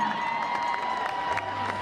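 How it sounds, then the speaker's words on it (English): Thousands of spectators crowd a marathon finish line and cheer runners on, a dense, continuous roar of shouts and whoops, loud and close, with no clear speech. "thousands crowded around the finish line to cheer on the runners"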